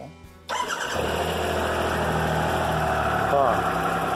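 A Japanese motorcycle engine cranks briefly and then catches, settling into a steady, loud idle close by, with a slight rise near the end.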